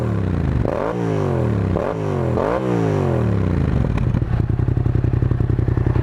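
Yamaha MT-07 Tracer from 2017 with an aftermarket MIF exhaust, close and loud: three quick throttle blips rising and falling in pitch, then the twin settles into a lumpy, pulsing idle.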